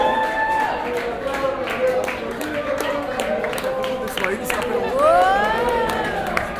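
A dense crowd murmurs and chatters around the Apple Store on the Champs Élysées in Paris, with voices layered close and far, occasional shouts and rising calls, a steady busy hubbub throughout.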